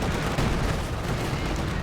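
122mm tank cannon in a World War II real-time strategy game, heavy booming fire amid a dense, continuous wash of battle gunfire, loud throughout the short stretch.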